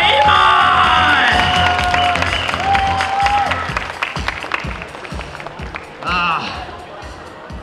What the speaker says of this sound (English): Round of applause, Arata Imai!